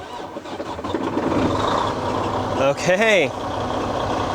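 Freightliner Cascadia truck with a CPC4 throttle fault, cranking over and catching into a steady diesel idle, with a brief sweeping whine as it starts and a short spoken word just before.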